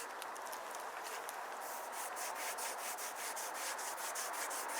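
A leather strop is rubbed with abrasive stropping compound in a steady, close, continuous scrubbing hiss made of quick back-and-forth strokes, with no voices.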